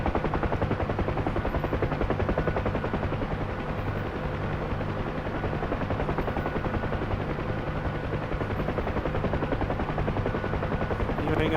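Harrier jet guns firing in DCS World, a continuous, loud mechanical rattle with a rapid machine-gun-like pulse running steadily for over eleven seconds.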